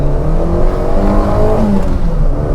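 A small city car's peppy engine revs up close and loud with a steady, slightly coarse drone that holds through the whole stretch.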